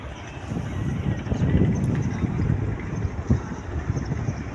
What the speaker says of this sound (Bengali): হালকা হালকা বাতাস হচ্ছে আজকে